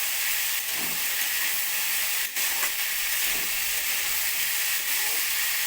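Raw pumpkin, potato and yardlong beans fry together in a pan, giving a steady, close broadband sizzle that holds evenly throughout with faint stirring bumps and no talk.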